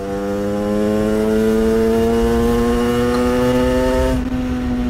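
A 50cc scooter fitted with a Voca Rookie 50/70 exhaust revs up under acceleration, a loud, buzzing two-stroke engine note climbing steadily in pitch for about four seconds, then dropping sharply as the throttle eases.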